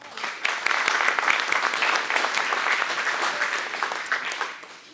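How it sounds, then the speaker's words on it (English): Guests at a community awards banquet clap for several seconds, a full, lively burst of applause that rises fast, holds, then tapers off. "Give yourself a little applause."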